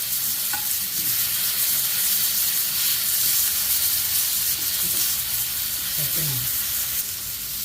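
Tomatoes sautéing in a pan with onion and ginger-garlic paste for a chicken dish make a steady, loud sizzle throughout, with occasional scraping stir strokes near the end and no talking.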